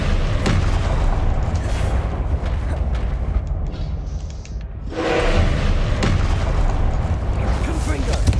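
Loud booming blasts of the Confringo spell in Hogwarts Legacy, several heavy explosions rolling one after another with a brief lull in the middle before the booms return.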